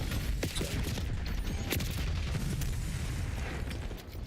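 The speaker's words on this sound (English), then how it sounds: "Incoming Semtex." Semtex grenade blast in Black Ops 6 amid a dense, continuous barrage of gunfire and explosions, loud and close for a few seconds, with sharp bursts standing out.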